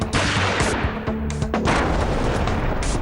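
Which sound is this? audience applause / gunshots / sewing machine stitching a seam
gunshots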